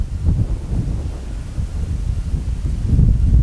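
Low, blustery rumble of wind buffeting the microphone outdoors on a perch fishing trip as the weather worsens, steady throughout with slight gusts swelling toward the end.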